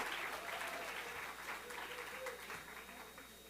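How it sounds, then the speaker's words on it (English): A round of applause rises from the audience at a pitch competition event, a dense, even wash of clapping that holds steady and tapers slightly toward the end. "let's give these folks a round of applause"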